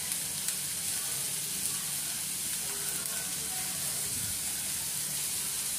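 Bell pepper, capsicum, beans and carrots sizzle steadily in a frying pan, a continuous close hiss and crackle of vegetables cooking for the whole stretch with no talking.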